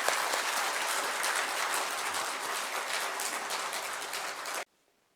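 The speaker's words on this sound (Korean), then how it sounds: "감사의 박수를 드리겠습니다." A church congregation applauds during a Sunday service in Edmonton, a dense, steady clapping from the whole room that lasts several seconds and then cuts off abruptly into silence.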